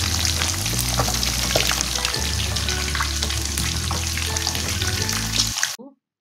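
Loud, steady sizzle and crackle of spiced chicken frying in oil until golden brown, continuous throughout, with a low hum underneath, then cutting off abruptly at the end.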